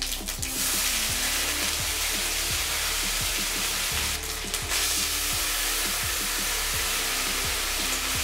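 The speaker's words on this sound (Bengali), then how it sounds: "তেল গরম হলে দিচ্ছি জিরে ফোড়ন, দিয়ে দিচ্ছি আদা বাটা" Cumin seeds and ginger paste sizzling in hot mustard oil, a loud, close, steady frying hiss dotted with rapid small crackles and pops, no talking.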